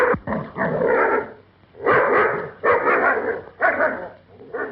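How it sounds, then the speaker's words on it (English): A dog barks in loud, close bursts, several rapid yips and barks grouped into about four clusters with short pauses between them, with no voices over it. "Go on, grab hold of that dog."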